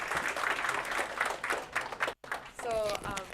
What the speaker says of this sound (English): give a round of applause to Bharat again